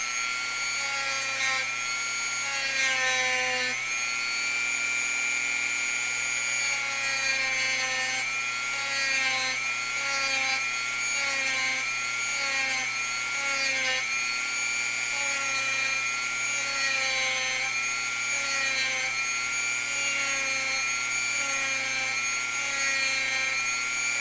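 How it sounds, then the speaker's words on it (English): Dremel rotary tool grinding a part during a live build, steady high whine with repeating rhythmic strokes as the work is shaped, loud and close, with no talk. "Do the rest by the Dremel and by hand sanding."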